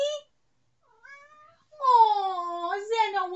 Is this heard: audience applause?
no